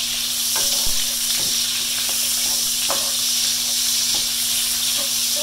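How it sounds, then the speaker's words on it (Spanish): Chopped onion sizzles and fries in a hot pan with lard left from cooking longaniza, a steady close hiss with faint stirring scrapes throughout. "vamos a cocinar la cebolla que se sofría."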